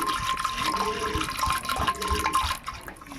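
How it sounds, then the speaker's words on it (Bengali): Water pours and splashes over lentils in a bowl as they are rinsed, a close, uneven gushing and sloshing that trails off near the end. "আবারও জল দিচ্ছি ধোয়ার জন্য"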